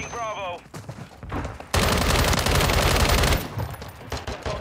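Sustained automatic gunfire in Call of Duty: Modern Warfare III, set in Karachi: a dense, loud burst of rapid shots running for under two seconds, with scattered shots and game sounds before and after.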